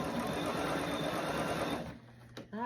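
A Bernina sewing machine stitches a sleeve cuff in a fast, loud, even whir for close to two seconds, then stops, followed by a short clunk.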